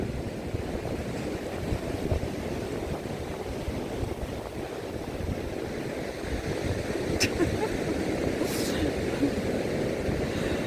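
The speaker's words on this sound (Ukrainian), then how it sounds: "Оце хвилі достають." A steady roar of Black Sea surf in Odesa in December, waves washing continuously, heavy wind rumble over the microphone, outdoors and fairly loud.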